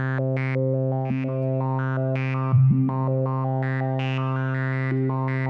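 A Doepfer A-124 WASP modular synth filter driven by sample and hold steps through rapid, buzzing synth pitches, each tone jumping abruptly to the next in a steady, gritty electronic pattern, loud and alone.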